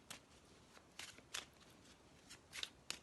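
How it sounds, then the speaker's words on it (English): Gypsy Oracle tarot cards being shuffled by hand, quiet and close, in a loose series of crisp riffling bursts and soft slides separated by short pauses, with no speech over it. "first I'm going to shuffle up the cards."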